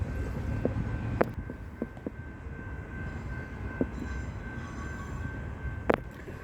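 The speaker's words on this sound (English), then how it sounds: "There we have one of our trains coming out of the yards there" A train rumbles out of the rail yards near a 120-year-old station at Mordialloc, a steady low roar with occasional sharp clanks and squeals over wind noise.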